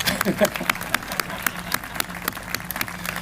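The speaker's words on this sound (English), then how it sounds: "let's give Don a round of applause" A round of applause from the audience at an outdoor police memorial dedication ceremony, a steady patter of many hands clapping at moderate distance.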